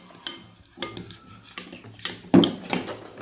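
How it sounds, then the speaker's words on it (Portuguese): Homemade slime being stirred with a utensil in a bowl, giving a series of irregular scraping and clinking strokes with a sharper knock near the middle, close and fairly quiet, with no talking. "Eu tô mexendo, galera"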